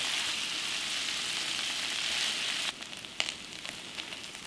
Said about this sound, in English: we have to still fry the potatoes till they become light golden brown and that should take about 5 minutes